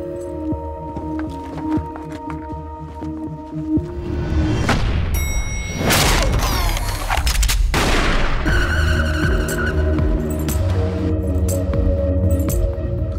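Action movie trailer soundtrack with a dense burst of gunfire and booms from an exploding-shell tactical weapon, loud and sustained over a heavy score after a quieter musical opening.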